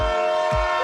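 Brief, steady, horn-like tonal train sound with a droning, harmonic-rich hum, heard close and loud for under a second with no talking.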